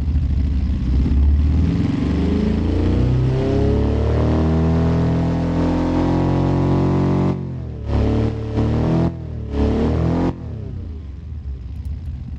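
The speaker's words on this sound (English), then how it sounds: "Sounds like a boxer to me." Boxer engine in the Automation car design game, revving steadily with a deep rumbling harmonic drone that then cuts in and out in several short bursts, loud and close with no talk over it.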